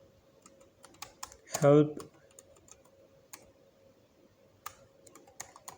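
Keys on a computer keyboard clatter in scattered light taps at close range, with a short burst of speech in the middle and quiet clicks continuing before and after.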